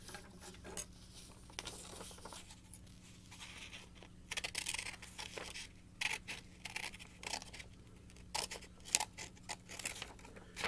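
Scissors snip through a paper letter H worksheet in quiet, irregular bursts of short clipping and rustling sounds, faint and close, with pauses between cuts.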